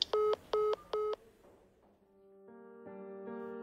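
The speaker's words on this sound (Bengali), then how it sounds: "ফোনটা রেখে থমকে গেলেন মনোময় চ্যাটার্জি।" In a radio drama, a telephone gives three short, evenly spaced electronic beeps as the receiver is put down, followed by a softer, steady tone that swells slightly.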